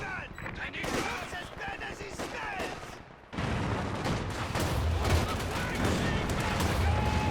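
In a Company of Heroes 2 match, a 222 armored car keeps up continuous rattling gunfire amid a dense battle mix of shots and explosions, with a commentator talking over it.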